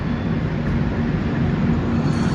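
Jan Shatabdi Express passenger train running after leaving Bhadrak station: a steady, dense rumble of wheels and carriages that holds at an even, loud level throughout, with no talking.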